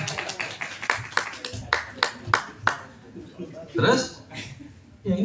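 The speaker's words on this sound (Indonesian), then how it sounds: "Ya, tepuk tangan loh, tepuk tangan." A group claps hands in a quick burst of roughly eight sharp, evenly spaced claps during a physiotherapy certification training session, then people talk briefly afterward.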